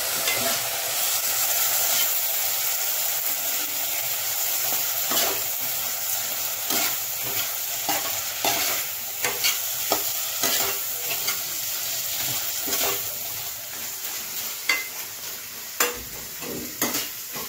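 Steady sizzling of boiled chickpeas frying in a pan, with repeated scraping and stirring knocks from a utensil throughout, close and fairly loud.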